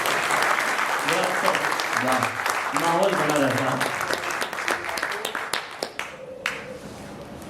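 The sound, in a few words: audience applause at poetry recital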